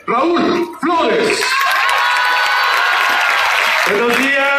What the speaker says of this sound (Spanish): Fuerte el aplauso para el presidente del PRD, Raúl Flores